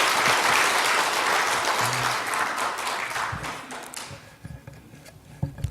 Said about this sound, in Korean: 주님께 모든 영광의 박수를 올려드리겠습니다